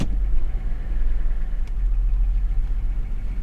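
A salvage car with low fuel and warning lights on runs at a steady, close low rumble after being put in gear, with the engine droning continuously.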